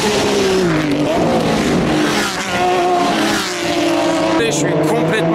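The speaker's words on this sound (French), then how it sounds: "Et les voitures nous frôlent." Race cars at the Le Mans 24 Hours circuit roaring past very close, a loud continuous engine wail with shifting pitch as several cars pass in succession.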